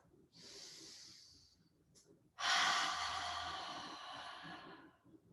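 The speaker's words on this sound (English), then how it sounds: "Take a deep inhale through the nose and exhale through the mouth" A woman takes a deep breath in through the nose during a yoga session, then lets out a loud, long, airy exhale through the mouth that slowly fades, with soft room ambience underneath.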